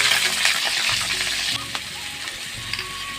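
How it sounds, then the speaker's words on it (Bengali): Onions drop into hot oil and set off a bright, close sizzle that fades somewhat after a moment. Scattered clinks and stirring noises sound over the bubbling. "এখন আমি পেঁয়াজ দিয়ে দেব।"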